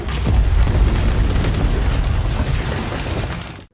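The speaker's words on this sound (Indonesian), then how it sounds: "tas yang Areski maksud berisi sebuah bom" A bomb hidden in a bag explodes in a film, a loud close boom that swells into a long rumbling roar of debris before cutting off abruptly.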